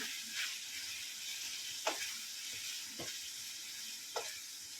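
Ridge gourd curry (turiya nu shaak) sizzles in oil in a pan as freshly added spice masala is stirred in. A continuous quiet hiss is broken by several brief spoon scrapes at irregular intervals, close up and without speech.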